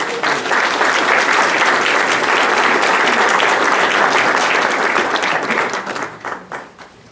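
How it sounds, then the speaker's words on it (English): Applause at a Rocky Mount city council meeting, a dense, loud round of clapping from the room that holds steady for several seconds and then tapers off to scattered claps. "Let's give them a round of applause."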